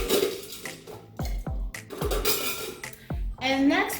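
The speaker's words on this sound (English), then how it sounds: "Now it's time to add the ice. So 1 good scoop of ice" Scoops of ice tumble into a glass for a blackberry whiskey mule, giving several sharp clinks and clattering thuds in an uneven rhythm, up close and fairly loud.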